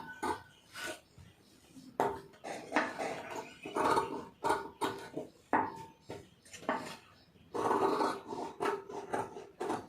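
Scissors cutting blouse fabric during a tailoring lesson, repeated rasping snips and rubs in uneven bursts, close and fairly quiet, with no talking.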